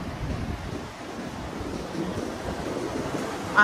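Sea waves surging and washing with steady wind noise, a continuous rough broadband roar at moderate level with no talk over it.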